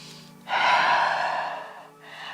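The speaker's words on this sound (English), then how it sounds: "Breathe in and out." During a yoga sequence, a person draws one long, clearly audible breath in and then begins to breathe out, close and alone with no talking.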